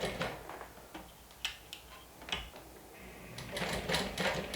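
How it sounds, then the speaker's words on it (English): A sewing machine stitches a strap with a 1/8 inch seam allowance, its bobbin wound with Aqua Tex 80 thread. Short, quiet bursts of rapid mechanical stitching stop and start again, ending in a longer run. "now I'm just stitching with 1/8 of an inch seam allowance"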